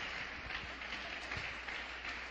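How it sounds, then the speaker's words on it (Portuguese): A church congregation claps together after the reading of the word of God, a soft, even wash of applause that holds steady from start to finish and sounds distant and faint. "Vamos aplaudir mais uma vez a palavra de Deus."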